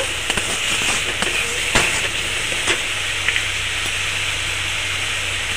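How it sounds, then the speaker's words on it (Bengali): Spice masala of coriander powder, chilli powder and turmeric with water being sautéed in a pan for gathi kochu, giving a continuous close sizzle and hiss broken by a few sharp taps of a spatula. "মশলাটাকে ভালো করে কষিয়ে নেব।"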